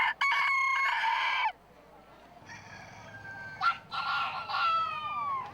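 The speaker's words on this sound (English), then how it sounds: "These roosters are crowing and it's 2:30 in the afternoon." Roosters crow in the afternoon at a local event, several long hoarse cock-a-doodle-doo calls close to the microphone, one after another with a short quiet gap between them.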